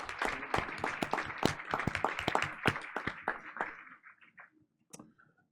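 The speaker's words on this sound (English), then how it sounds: "Let's get another round of applause." Applause from a school board meeting audience honoring Philippine folk dancers: a dense burst of many hands clapping at moderate distance, thinning out and fading after about four seconds, with a few scattered claps near the end.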